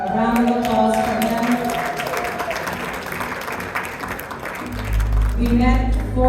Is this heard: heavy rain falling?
no